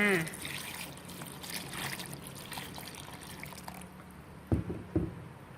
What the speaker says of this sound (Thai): เอาน้ำนะคะ น้ำใส่ลงไปให้ท่วมเลยค่ะ